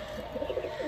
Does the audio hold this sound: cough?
no